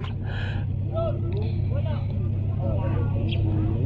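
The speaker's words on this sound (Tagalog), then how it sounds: "Naka-andar na yung makina eh." A boat engine runs at a lagoon fishing spot, a steady low motor drone filling the background throughout, while people talk loosely over it.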